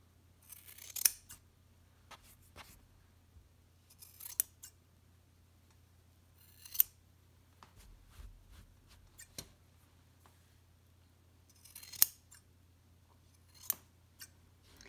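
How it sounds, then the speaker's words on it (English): Sharp scissors snip yarn while trimming Ghiordes knots on the edges of a piece, quiet, close crisp cuts coming in small clusters with pauses between them. "on the edges, I'm going to trim those a little shorter than the rest of it"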